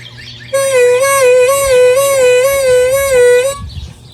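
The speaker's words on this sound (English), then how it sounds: "going from a 2 draw to a bent 2 draw and then back again" Harmonica holds a 2 draw for about three seconds while the pitch bends down and back up in a repeated wavy wobble, loud and close, played alone without talking.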